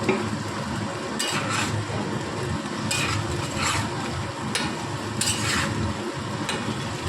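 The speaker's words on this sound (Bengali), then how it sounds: "নুন দিয়ে এটাকে ভালো করে কষে নিচ্ছি বলগুলোকে আমরা" Egg balls sauté with salt in a hot pan, giving a steady close sizzle and frying hiss. A spoon or spatula scrapes and stirs against the pan in several short strokes. No one speaks.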